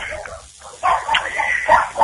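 Dogs barking over a phone line during a radio call-in, a few short muffled yaps and whimpers mixed in with talk.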